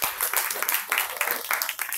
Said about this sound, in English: Give applause for them